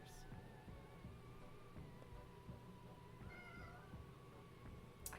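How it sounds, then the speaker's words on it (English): A cat meowing in a quiet indoor room, faint calls rising briefly over a low steady background hum, with no talking. "I can hear a cat meowing."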